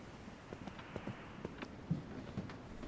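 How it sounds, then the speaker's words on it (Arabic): Horse hooves clip-clopping at a distance, a faint, uneven series of soft hoof strikes over a steady background hum. "والله حصان"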